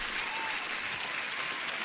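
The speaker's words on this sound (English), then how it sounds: "to everybody who made profit, and especially for Steve now, let's give an applause" A group applauds in a continuous, even wash of clapping that stays steady and fairly distant throughout, with no voices on top.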